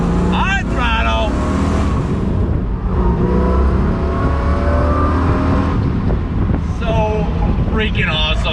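Big-block 427 V8 of a 1966 second-generation Corvette Stingray pulling at high throttle, a loud continuous roar with rising revs and brief gear changes, heard from inside the car with a voice over it.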